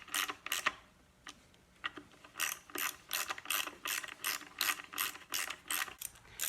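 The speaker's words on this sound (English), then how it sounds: "So I'm just gonna snug up the bolts" A ratchet wrench clicks in repeated quick bursts while snugging up bolts on a Perkins 152 diesel timing cover, with crisp close-up pawl ticks and short pauses between strokes.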